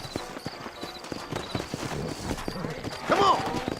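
Horse hooves clip-clopping in a rhythmic gallop in Red Dead Redemption, mid-loud, with a horse whinny near the end and a voice over the hoofbeats.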